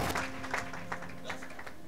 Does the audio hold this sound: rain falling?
no